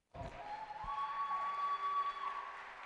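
Audience at a youth fair senior steer showmanship class breaks into applause, rising suddenly and holding as a steady, fairly distant wash of clapping in an arena.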